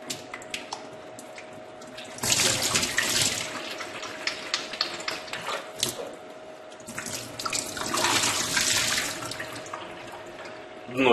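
Tap water runs into a plastic bottle as cucumbers are rinsed for salting, with two bursts of louder gushing and splashing over a steady faint flow, plus occasional clinks and drips nearby.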